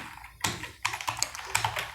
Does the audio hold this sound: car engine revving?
no